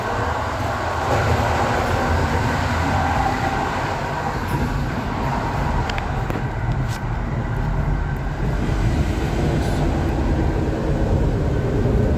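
Interior rumble of the IC 38100 Zamoyski intercity passenger train running at about 99 km/h, a steady, loud low roar of wheels and carriage with faint rattles throughout, no voices.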